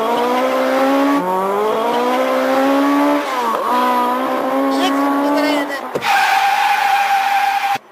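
Radio prank sound effect of a car speeding with tyres skidding, a loud engine whine and tyre squeal that rises and shifts in pitch over several seconds, mixed under ongoing talk before cutting off abruptly.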